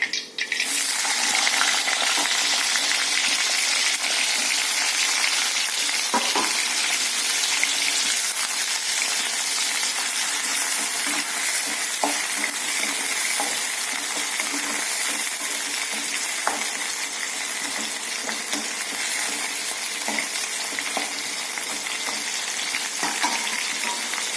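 Slices of bitter gourd frying in hot oil in a home kitchen, a steady loud sizzle that runs throughout with occasional stirring clinks and pops, no talking.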